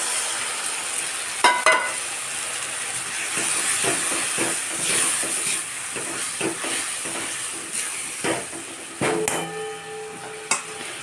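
A mix of ground cumin, turmeric, Kashmiri chili powder and garam masala with water hits a hot pan and sizzles with a steady hiss, broken by scattered clinks and stirring knocks close by.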